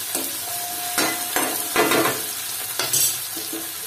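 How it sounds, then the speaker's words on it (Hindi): Tomatoes cooking in a pan for a tinda sabzi, with a spoon scraping and stirring in repeated strokes over a soft, steady sizzle close to the microphone. "टमाटर को भी अच्छे से पका लेंगे।"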